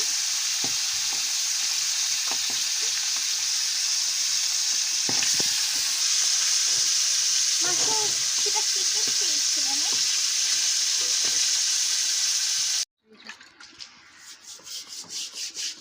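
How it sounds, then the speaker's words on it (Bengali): Fish frying in a pan with a steady, dense hiss that runs for most of the time, with occasional scraping, before cutting off abruptly into quieter rustling. "মাছগুলো ভেজে নিচ্ছি।"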